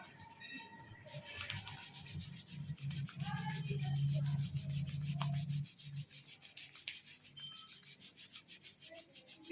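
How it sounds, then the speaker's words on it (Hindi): A palm rubbing firmly back and forth over a patient's neck during a massage for ankylosing spondylitis back pain, a soft continuous swishing friction that swells in the middle and fades toward the end, with no talking. "हमें इस नेक वाले एरिया की थोड़ी सी घिसाई करनी है अपनी हथेली की मदद से"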